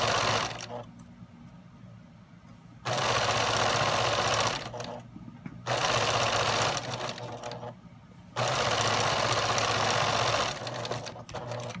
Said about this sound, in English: I'm just going to pin a couple there and then sew again, right sides together